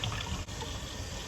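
Boiled saltfish rinsed under running water from a tap, a steady close gush of liquid filling and splashing without pause.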